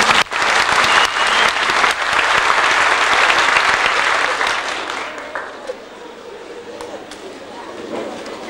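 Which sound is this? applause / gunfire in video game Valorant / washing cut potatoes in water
applause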